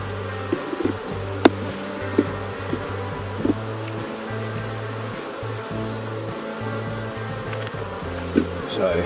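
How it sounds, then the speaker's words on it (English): Angry bees buzz densely around a hive, a close, loud, continuous droning swarm with individual bees zipping past, plus a few faint clicks and knocks. "Very angry bees, these ones."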